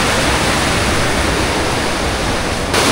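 The Neora river rushes past close by, a loud, even broadband roar of flowing water that holds steady throughout and dips slightly near the end.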